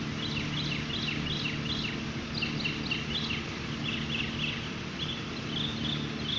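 Birds chirp in short, repeated bursts outdoors on a putting green, fairly faint and distant over a steady low hum.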